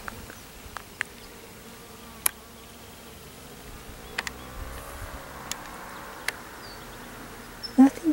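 Honeybees buzzing faintly around the listener, a soft continuous drone with scattered brief clicks and a louder rustle near the end.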